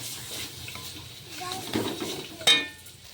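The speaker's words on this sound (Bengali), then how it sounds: "চলো এবারে ভালো করে আরো মশলাটাকে কষিয়ে নিই" Chicken masala spices are stirred and fried in a pan with soft sizzling and scraping, ending in a sharp clink of a utensil against the pan.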